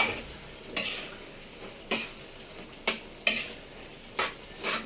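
Laing, cooked down until nearly dry, is stirred in a pan with a utensil: about six separate scraping strokes, evenly spaced and close, over a faint sizzle, with no talking.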